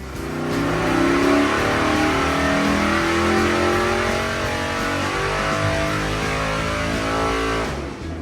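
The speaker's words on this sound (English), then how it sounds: "It's actually a 490 cubic inch big block Dodge wedge engine." A 490 cubic inch big block Dodge wedge engine roars loudly under load during a dyno pull, with a sustained, rising, heavy growl that holds for several seconds before easing off.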